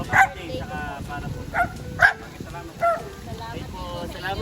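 Several dogs bark and yip at a birthday outreach visit, with sharp bursts spaced a second or so apart, close by. People's voices murmur underneath.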